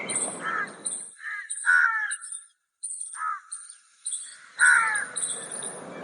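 A crow gives several harsh, close caws in short bursts with brief pauses. A thin high whistle-like tone runs through the background.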